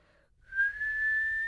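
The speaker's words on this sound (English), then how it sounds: "that's me whistling, blowing out" A person whistles by blowing air out, one sustained clear tone that slides slightly upward and holds steady, close and alone after a brief quiet start.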